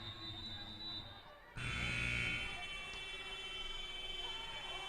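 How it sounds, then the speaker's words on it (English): Scoreboard buzzer in a gym during a girls' varsity volleyball match, a steady electronic tone sounding over loud crowd noise and chatter from the stands, with the din swelling partway through. "we've got a buzzer problem again"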